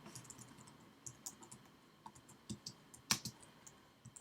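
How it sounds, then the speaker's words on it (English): Quiet, close clatter of a computer keyboard being typed on, a run of irregular light key clicks with one sharper tap, faint and without speech. "I'm just going to type in refactor."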